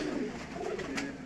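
Pigeons coo softly in a breeder's loft in Jhelum, low rounded calls overlapping against a steady background murmur, heard close for a brief moment without talk.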